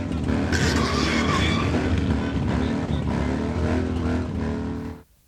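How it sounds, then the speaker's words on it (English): A loud, continuous engine roar from motorbikes in a street parade for a charity toy run, heard close and steady before cutting off abruptly near the end. "Engines roaring for a good cause."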